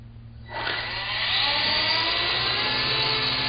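A small electric motor of an RC helicopter whirs up to speed with a high, steady whine that rises and holds, close by, spinning its rotor.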